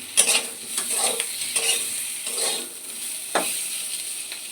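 Fish curry masala for rohu macher jhol sautés with ginger paste and salt, a soft sizzle under repeated scraping strokes of a spatula against the pan, several distinct clinks and scrapes spaced through the clip.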